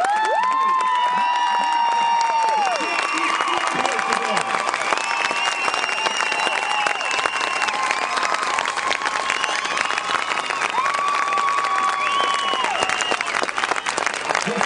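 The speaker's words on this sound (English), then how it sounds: "let's have another big round of applause" A large crowd applauds and cheers at a state marching band championship awards ceremony, sustained loud clapping with whoops and shouts and some high-pitched yells over it for the whole stretch.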